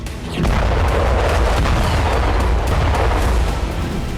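Artillery shelling and explosions in the city of Kharkiv during wartime, a loud, continuous roar of booms and blasts that rises sharply after a brief lull and stays dense and rumbling throughout, with no voices.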